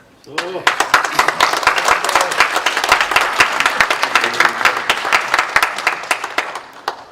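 Applause for an elder at a Korean church presbytery election: a room of people claps in a steady, sustained burst that builds quickly, holds for several seconds and thins out at the end.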